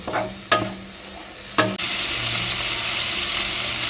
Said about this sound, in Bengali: গ্যাসের ফ্লেমটা মিডিয়াম টু হাইতে দিয়ে মশলাটা আমি খুব ভালো করে কষিয়ে নেব